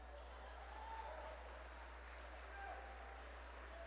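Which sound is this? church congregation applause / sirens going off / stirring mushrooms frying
church congregation applause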